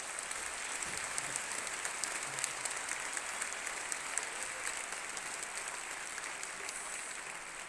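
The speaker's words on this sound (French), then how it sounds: "vous méritez une bonne main d'applaudissements" An audience at a French awards gala claps in sustained, dense applause, many hands pattering steadily at moderate distance for several seconds without letting up.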